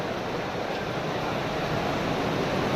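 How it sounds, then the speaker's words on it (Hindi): Steady rainfall, a dense, even hiss of falling water with no breaks, loud and close throughout. "ये जो आवाज है बारिश की है"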